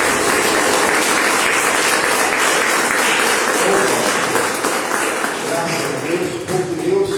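A congregation at a Christian church service claps together, a loud sustained patter of many hands with voices mixed in underneath, tapering unevenly near the end.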